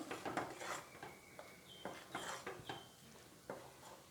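A mango pudding mixture is stirred steadily in a pan over a medium flame, giving repeated scraping and light metallic clinks of a spoon against the pan in an irregular rhythm, close and moderately loud with no talking.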